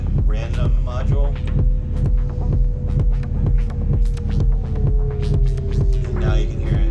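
A VCV Rack modular synth plays techno with a steady thumping kick pulse, while a resonant low-pass filtered tone on a slew slowly sweeps and builds above it.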